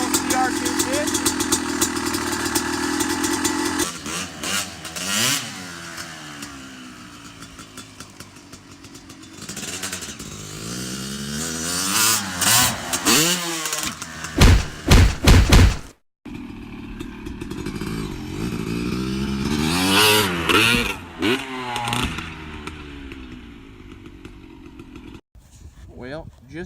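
A Honda CR250 two-stroke dirt bike revs hard in a backyard jump setting, its close, loud engine note climbing and falling in repeated bursts. It settles briefly between throttle blips, then cuts out abruptly before revving again.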